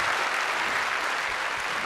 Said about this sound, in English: I think we should give the boys at the back here a big round of applause